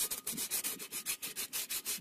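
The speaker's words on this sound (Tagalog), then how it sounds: "isasand ko na siya." Brake drum being hand-sanded with 100 grit sandpaper, a close, steady back-and-forth scratching rub repeating about eight times in quick rhythm, with no talking.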